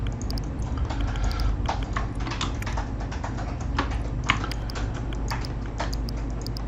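Quick, irregular clatter of keys on a computer keyboard, close and fairly quiet, with bursts of taps and short pauses over a steady soft background hum.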